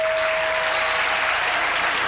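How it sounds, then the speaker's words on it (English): Applause from a TV game show studio audience during a 1989 Scrabble episode, a steady, fairly loud wash of clapping with no talk and an even level throughout. "Oh, there's one person applauding."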